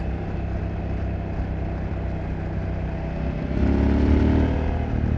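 A Husqvarna Svartpilen 801 motorcycle with a 799cc engine and 105 horsepower produces a steady, close engine drone with wind noise, swelling slightly louder toward the end, with no voices.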